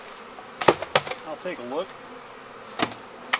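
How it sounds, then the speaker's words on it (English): Honey bees buzz at a beehive during winter preparation, a faint hum under a voice, with several sharp knocks or taps scattered through. "Hey, I have bees!"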